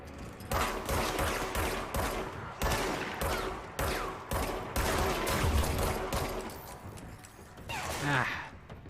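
Rapid gunfire from the video game Control breaks out in loud, dense bursts, each lasting about a second, with short gaps between them, ending in a few scattered mechanical clicks.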